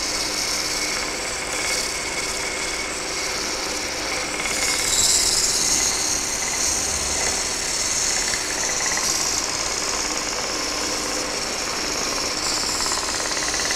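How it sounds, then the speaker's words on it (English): A small power sander buzzes steadily and loudly close by, sanding a wooden frame, a constant gritty whine with slight wavering, no voices. "I've got a little sanding gadget which will allow me to do nice curb sanding there"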